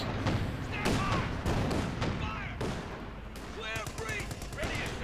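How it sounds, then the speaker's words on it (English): Panther tank machine gun fire in the Company of Heroes 2 strategy game, repeated bursts and rapid rattling shots mixed with explosions and battle noise, with a commentator's voice partly over it. "Panther's MGs though prove to be perfectly lethal."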